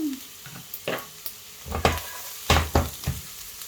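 Butter sizzles as it meets fried potatoes for Bratkartoffeln in a pan, with bursts of crackling and scraping stirs coming in an uneven rhythm, close and fairly loud.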